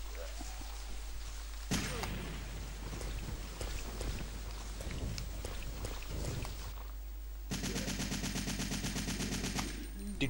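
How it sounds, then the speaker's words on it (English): Rapid machine gun fire in Resident Evil 3, heard in loud bursts with a sustained rattling stream near the end over a low background hum. "Machine guns are simple."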